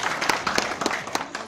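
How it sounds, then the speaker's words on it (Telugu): Audience applause honouring community members at a death-anniversary commemoration for the author of Komaram Bheem, scattered uneven claps from a small crowd, fairly quiet and brief, with no talk over them. "ఒక్కసారి వాళ్ళ గురించి చప్పట్లు కొట్టవలసిన అవసరం"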